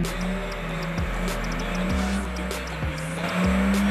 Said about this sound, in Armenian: Անիվները տակացնելուց հետո տրվում է մեկնարկը